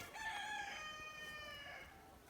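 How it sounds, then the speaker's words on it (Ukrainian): A young Leghorn cockerel crows once, a thin, strained, slightly wavering call that trails off, moderately faint with no talking. "О, півник вже хоче паруватись маленький легорн."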